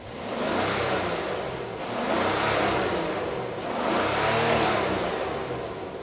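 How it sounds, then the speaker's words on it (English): A powerful luxury 4x4 SUV engine with an upgraded Black Badge sports exhaust revs repeatedly in long rising-and-falling swells, a deep throaty exhaust roar close by with no voices. "it sounds a little bit more fruity when you rev it"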